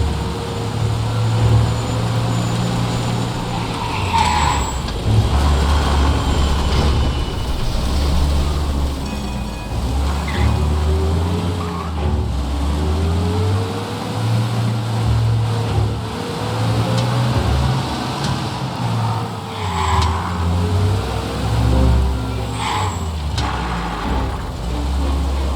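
A car engine hums and revs in the Mafia remake video game, with a low, continuous motor drone rising and falling in pitch as the vehicle accelerates and shifts over about twenty-five seconds, with occasional faint higher clatters.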